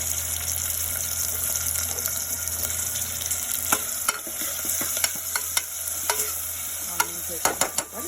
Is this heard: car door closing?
no